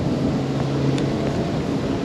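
A boat's engine drones steadily with broad rumbling and wind noise while motoring through a canal at about 25 miles an hour, a constant roar with no talking.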